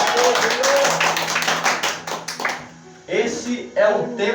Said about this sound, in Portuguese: Bate palmas e dá glória a Deus